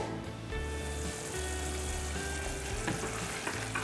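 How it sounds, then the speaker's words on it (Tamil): Tomato egg gravy bubbles and simmers steadily in a pan, a constant close sizzling hiss with a low hum and no voices. "குழம்பு கொதிச்சுக்கிட்டு இருக்குது"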